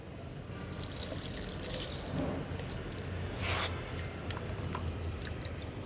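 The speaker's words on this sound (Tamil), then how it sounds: "இப்போ நான் இதை வந்து செடிகளுக்கு ஊற்றுறேன்." Whey water poured from a container onto garden plants as fertiliser, a steady splashing and trickling stream close by, with a brief heavier gush midway.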